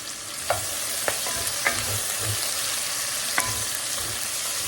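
Garlic frying in hot oil for a vegetable curry, a steady close sizzle with a few sharp clinks of a utensil against the pan spaced through it, no voices.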